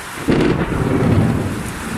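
A loud crack of thunder rolls in and rumbles heavily for a moment amid steady rain noise, on a trek near Jardín, Antioquia, Colombia.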